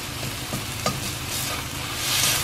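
Garlic frying in a pan as it is stirred, giving a soft, steady sizzle with light scraping taps, close and fairly quiet with no talking.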